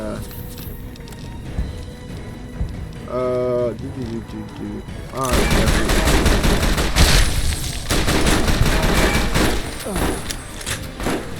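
Dense gunfire from the video game Fallout New Vegas rattles continuously through the second half, loud and chaotic over game sounds, with someone talking earlier.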